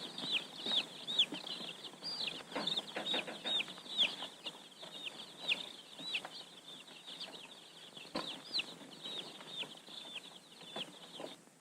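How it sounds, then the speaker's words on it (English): Baby chicks chirp in a box set aside among mail sacks in a 1950s railway mail car, a busy stream of high, thin peeps and cheeps that goes on steadily at low volume with no voices. "Fragile items like this box of chicks were put aside to be placed on top of the pile."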